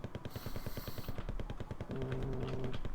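Rapid automatic cannon fire from a strafing MiG-21 fighter in a combat video game, a fast even burst of shots lasting the whole moment, with a jet engine whine over part of it and a droning tone later.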